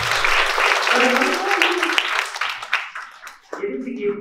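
An audience at a school prize distribution applauds with a dense, steady clapping that fades toward the end, while voices talk over it.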